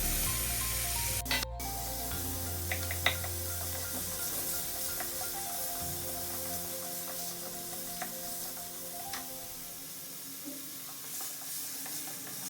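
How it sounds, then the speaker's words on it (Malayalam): Tomatoes go into a pan of well-sautéed onions for a Kerala prawn roast, giving a steady low sizzle of frying that carries on throughout at moderate level with a few faint clinks. "നല്ലവണ്ണം വഴണ്ട് വരുമ്പോൾ തക്കാളി ഇട്ട് കൊടുക്കാം"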